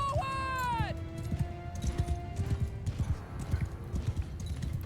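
Horse hooves clip-clopping in the Mount & Blade II Bannerlord video game, a brief whinny at the start followed by a steady, rhythmic trot of hoof beats at moderate loudness.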